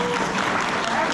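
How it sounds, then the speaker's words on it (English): An audience at a B&H event claps steadily in a brief, dense burst of applause, fairly loud and close. "let's give claps."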